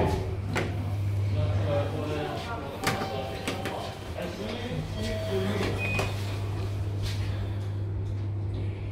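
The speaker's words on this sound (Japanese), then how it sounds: "こちらのドアが開きます。" A Hitachi elevator door slides open at Odakyu Line Shin-Matsuda station, a soft mechanical rumble beneath a steady low hum, while a recorded voice announcement plays throughout.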